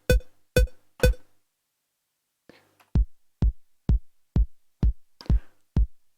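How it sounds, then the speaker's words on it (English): A house-track bass drum thumps a steady four-to-the-floor beat, evenly spaced, punchy low hits following a few brighter opening hits and a short silence. "This is just 4 to the floor bass drum."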